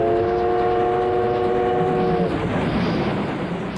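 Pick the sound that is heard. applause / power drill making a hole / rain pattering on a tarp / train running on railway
train running on railway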